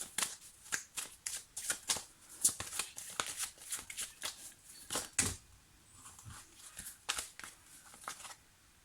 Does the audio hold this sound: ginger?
no